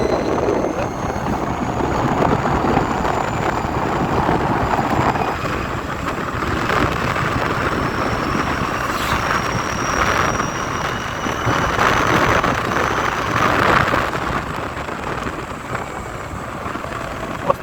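An Ather 450X electric scooter rides in sports mode. Loud, steady wind rush and road roar fill the whole stretch, with a faint high motor whine running underneath.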